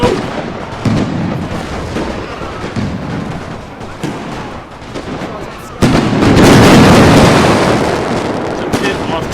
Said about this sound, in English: Now let's try to get those grenades off into the damn rifle infantry of old.